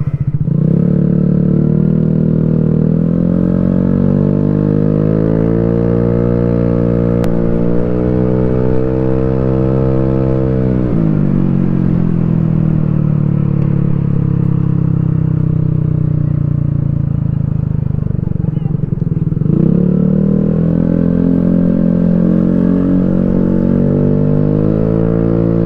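A Vespa S150 Sprint scooter engine runs steadily and loud, with a noisy aftermarket exhaust, its pitch dipping and rising around the ten- and twenty-second marks, continuous and close, with no voices.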